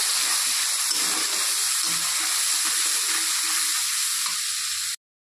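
Onion, ginger and garlic paste with green chilli frying in a pan after the onions have browned, giving a loud, constant hissing sizzle that cuts off abruptly.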